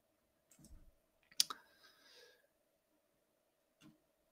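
Computer mouse clicks come in a few sharp, quiet taps near the start, then one isolated click follows after a pause, in an otherwise silent room.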